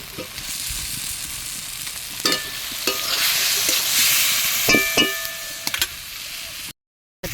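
Potatoes sizzle loudly in a spiced masala with cumin in a pan, with stirring clanks and scrapes through the frying hiss before a sudden cut to silence near the end.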